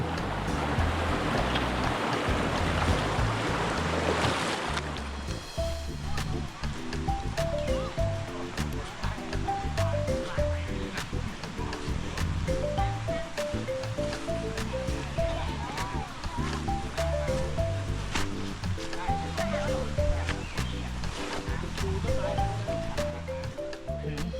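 Khlong Ta Long waterfall in Chanthaburi pours loudly as a dense rushing wash for the first few seconds. Then a steady, quieter flow continues beneath music.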